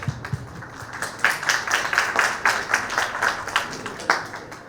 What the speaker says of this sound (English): So please give a big round of applause for Kamish Karthik.